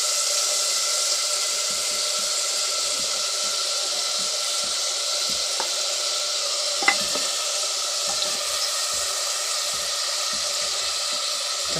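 Chicken for makhani handi fries in a pot, giving a steady loud sizzle across the whole stretch, with a few brief scraping clicks as it is stirred and no voices.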